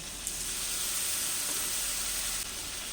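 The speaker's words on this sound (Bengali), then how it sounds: "টমেটোটা নরম হয়ে গেছে এবার ওর মধ্যে আমি মশলার ব্যাটারটা যেটা তৈরি করে রেখেছিলাম ওটা এর মধ্যে দিয়ে দিচ্ছি" Spiced batter going into hot oil with softened tomato for a Bengali muri ghonto, giving a steady, fairly loud broadband sizzle that holds evenly throughout with no talk.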